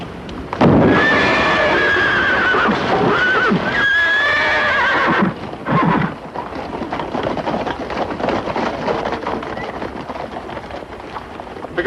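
Several horses neigh loudly in a desert setting, with long shrill whinnies in the first few seconds followed by snorts, hoof noise and rustling movement.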